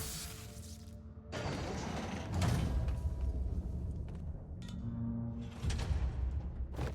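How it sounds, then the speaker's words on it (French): A hidden door slides open in Marvel's Spider-Man, giving a heavy mechanical grinding and creaking rumble that runs for several seconds, with scraping bursts and a clunk near the end, and no voices over it. "Une porte cachée."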